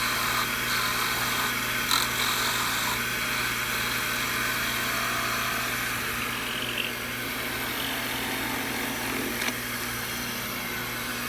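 A wood-turning lathe parts off a piece, giving a continuous whirring, scraping cut with a low steady hum underneath. Occasional small clicks break it, and no one speaks.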